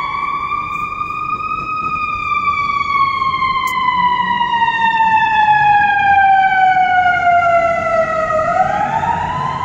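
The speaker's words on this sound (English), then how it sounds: "Siren is loud." A fire truck siren wails loudly as it passes along a city street, its long rising and falling tones sweeping down slowly and then climbing again near the end, over steady traffic noise.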